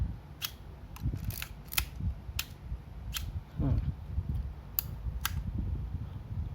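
A Canon Canonet QL17 camera works its shutter on bulb setting, giving several sharp mechanical clicks spaced unevenly close to the listener, with quiet handling noise and soft talk in between.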